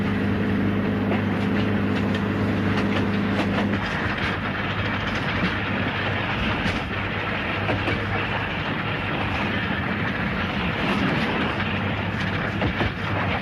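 The Ghan passenger train rolling through the Australian outback at dawn, a steady loud rumble with rhythmic clickety-clack of wheels over rail joints, heard from on board, continuous and close with no talking.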